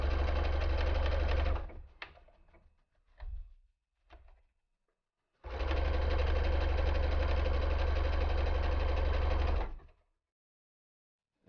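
A Brother SE425 sewing machine stitches in two sustained runs, loud and close, with a few short bursts and handwheel clicks in the pause between them and no talking.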